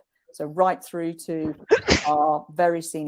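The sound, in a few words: sneeze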